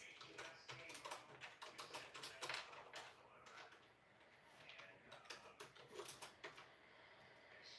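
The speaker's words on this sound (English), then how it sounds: "Trying to type, guys." Typing on a computer keyboard during a nail-art livestream, a fairly steady run of soft, close clicks and taps that briefly pauses before resuming.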